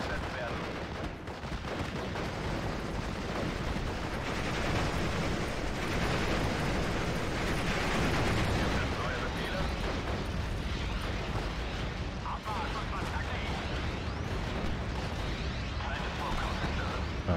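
Dense, continuous wartime battle from the game Steel Division: Normandy 44, with an artillery volley and rolling gunfire forming a steady, loud bed of rumbling blasts and cracks throughout.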